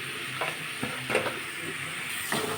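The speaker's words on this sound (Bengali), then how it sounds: "লবণটা দিয়ে ভালো করে নেড়ে নিতে হবে" Salt being stirred into a mango pickle mixture, a soft scraping and rustling with a few sharper clinks, steady and close, with no talking.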